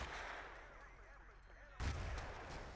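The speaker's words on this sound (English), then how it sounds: "Artillery will fall on the flag" An artillery barrage lands on a flag point in Battlefield 2, a rumbling distant roar that swells into a heavy close impact near the end, heard under a casting voice.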